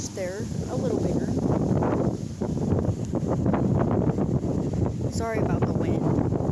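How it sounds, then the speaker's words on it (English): Wind blows strongly across the microphone in an outdoor garden of mammoth sunflowers and elephant ear plants. The rumble is loud and continuous, with faint birdsong breaking through. "Sorry about the wind."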